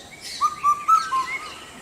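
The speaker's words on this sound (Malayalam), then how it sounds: "അങ്ങനെ പേരിലൊരു പക്ഷിയുണ്ട്, ഇന്ത്യൻ കുക്കു എന്നറിയപ്പെടുന്ന" An Indian cuckoo calls four short whistled notes in a quick, evenly spaced sequence, fairly clear over a soft background hiss.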